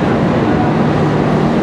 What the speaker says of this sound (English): So they're not electrified, it's a diesel train.